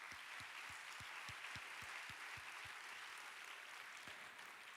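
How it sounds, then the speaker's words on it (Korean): Applause from a university-age congregation at a Korean church service, honoring a special music team, a faint, even wash of clapping with low thumping claps near the start, heard from a distance without talk. "우리 특순한 팀 위해서 다시 한번 뜨겁게 박수하겠습니다"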